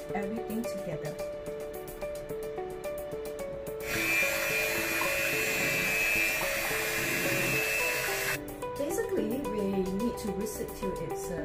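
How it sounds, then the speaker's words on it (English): An electric whisk whirs steadily through batter ingredients in a home kitchen for about four seconds, a bright motor drone that starts and stops between bits of talk. "now I'm going to whisk everything together"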